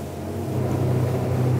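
Rame Yacht R10 motorboat engine held under throttle at speed, a steady, loud low drone with a strong harmonic hum that swells slightly and runs on alone without talk.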